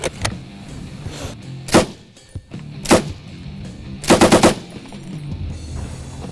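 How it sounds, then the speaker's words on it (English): An M60 machine gun fires at a shooting range: loud, close blasts come as single shots and then a rapid burst of about four rounds, with quieter range noise between them. "You have Rambo's M60."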